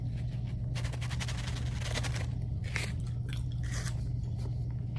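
A hard, chewy strawberry gummy being chewed close to the mic, with soft sticky squishes and a few crunchy bites over a low steady background hum.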